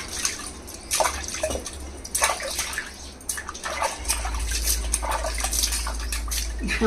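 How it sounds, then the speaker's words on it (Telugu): Water splashes and drips while a stone wet grinder is washed out after grinding batter, with intermittent bursts of pouring and trickling and a low steady hum underneath, fairly close. "రుబ్బేసుకున్న తర్వాత కూడా అంతే శుభ్రంగా కడగాలి"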